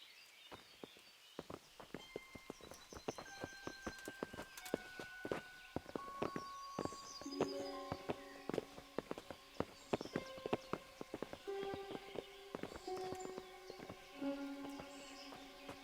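Horse hooves clip-clop at a steady walking pace through a medieval setting in Kingdom Come: Deliverance, the sharp knocks repeating over background music and ambience.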